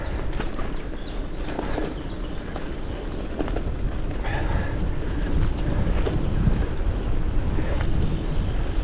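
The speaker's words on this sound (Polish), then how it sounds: "Powiem Wam, że ten wiaterek jest dość dokuczliwy" Strong wind buffets the microphone on an open seaside cycling route between Mielno and Kołobrzeg, a continuous heavy roar that swells slightly with faint rattles and bird-like chirps beneath.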